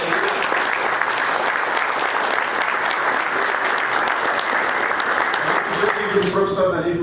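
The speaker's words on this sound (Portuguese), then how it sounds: "eu queria pedir uma salva de palmas para o Daniel" Audience at a lecture applauding a colleague, a dense, sustained round of clapping that fills the room and fades as a voice returns near the end.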